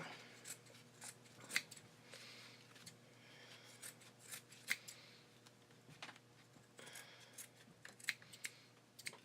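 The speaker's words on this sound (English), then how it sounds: "you can cut anywhere on the other side of that at this point when you're doing your rough cutting" Scissors rough-cut embroidery fabric around an in-the-hoop pin cushion design, giving quiet, repeated snips and crisp blade clicks in an uneven rhythm, close up and alone with no talk.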